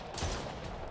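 A burst of gunfire in the horror video game Stray Souls, one short sharp volley lasting under a second, fairly loud against a steady background.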